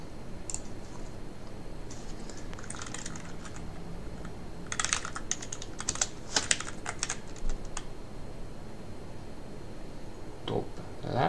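Keystrokes on an Ultimate Hacking Keyboard clatter in uneven bursts of crisp clicks, close and fairly quiet, with pauses between runs of typing and no talking.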